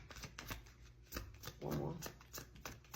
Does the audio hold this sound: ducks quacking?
no